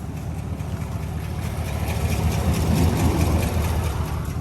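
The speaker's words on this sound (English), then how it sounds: "Do y'all hear that? I think I just dropped the lifter." A 2021 Chevrolet Silverado engine with a dropped lifter drones steadily at idle, a loud continuous low rumble with a faint irregular ticking texture running throughout.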